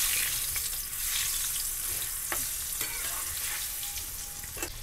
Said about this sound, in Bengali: ডাঁটাটা ভালো করে লাল লাল করে ভেজে নেব।